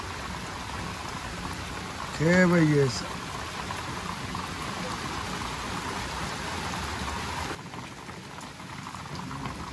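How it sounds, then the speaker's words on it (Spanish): Steady rain on a rainy day pours as a constant dense hiss throughout, with a brief spoken exclamation from a voice over it near the start. "Día de lluvia, mi gente."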